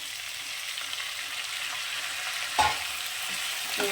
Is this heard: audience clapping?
no